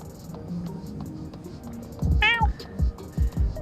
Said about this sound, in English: Up there's the kitty!